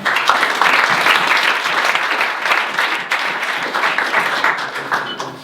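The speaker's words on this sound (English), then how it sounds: "please give a warm round of applause to Florian" Sustained audience applause fills a conference hall at a tech talk event, dense and steady throughout with a slight dip midway, no voices over it.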